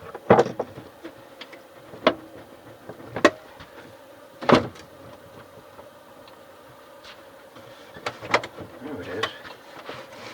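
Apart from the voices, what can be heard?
opening cassette door of Sanyo M-X650K boombox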